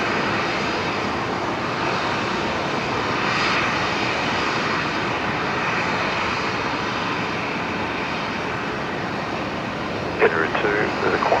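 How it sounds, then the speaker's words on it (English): A Qantas airliner arriving at Brisbane Airport at twilight, its engines a loud, sustained roar that swells slightly midway, with a voice briefly over it near the end. "Now Qantas 556 next arrival coming in here."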